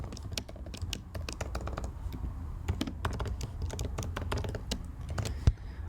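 Steady, rapid clicking of a computer keyboard as a line of Go server code is typed, close and clear over a low background hum, with one sharper knock near the end.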